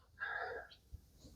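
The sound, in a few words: sneeze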